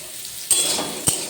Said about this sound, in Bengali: এখানে আমি পটল ভাজছি